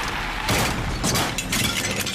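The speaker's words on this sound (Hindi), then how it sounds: "बाइक तोड़ दी ना" A car crashing into a parked motorbike in an action movie scene: a loud, dense burst of smashing and breaking metal with sharp cracks, full and close throughout.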